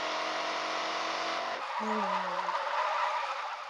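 A Tofaş car drifts in the Car Parking video game, with a steady engine drone throughout, then a sliding tire squeal that dips in pitch mid-clip over a continuous roar.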